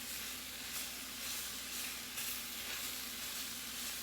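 Peppers and onions sizzle steadily in a hot pan for chicken fajitas, a continuous close frying hiss with faint stirring bursts and no talking.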